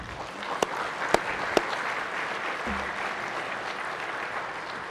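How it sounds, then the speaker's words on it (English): Guests in a state Senate chamber receive applause during a floor session, a moderate, fairly even clapping from a seated crowd with a few sharper individual claps standing out early on. "have an applause for each and every one of you"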